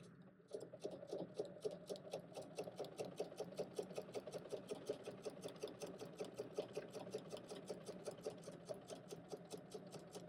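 A sewing machine stitches through quilt layers at a steady, moderate pace, its needle clicking in an even rhythmic tick throughout, close and fairly quiet, with no talking.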